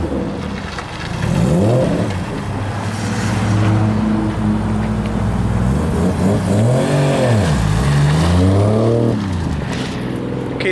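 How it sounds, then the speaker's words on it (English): A car with a single-turbo 20B three-rotor rotary engine revs hard, loud rising and falling sweeps of buzzing engine tone close by, with a roaring exhaust and turbo whoosh. "that's the single turbo 20B we helped Gil build"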